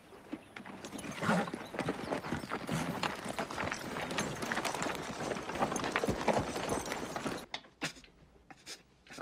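Several horses' hooves clip-clop over the ground at a western creek, a dense fast clatter of steps close by that thins into a few scattered hoofbeats at the end, with no voices.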